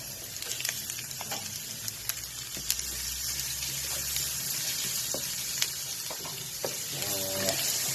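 Lots of garlic sautés in a pan as the first step for baby squid in olive oil, a steady soft sizzle with scattered clicks and scraping of a utensil, fairly quiet and close.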